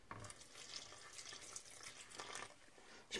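Lukewarm water is poured into bread dough in a home kitchen, producing a short soft splashing trickle with faint stirring noises, fairly quiet and without speech.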